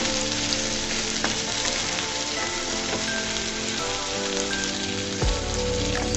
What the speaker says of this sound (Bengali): বেগুনটাকে সুন্দর করে আমি ভেজে নিচ্ছি